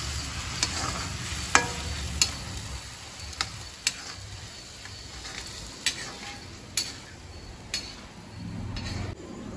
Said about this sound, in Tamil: நல்லா கிளறி